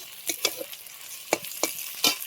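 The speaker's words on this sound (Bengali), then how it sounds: "চিংড়ি মাছগুলো দিয়ে ভেজে নেবো পেঁয়াজ আর লঙ্কার সাথে।" Prawns frying with onion and chili in a hot pan, with a few sharp stirring scrapes punctuating a soft, steady sizzle.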